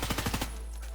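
An M4A1 rifle in Escape From Tarkov fires a quick full-auto burst of about five rapid shots, close and punchy, cut off after half a second with a short tail.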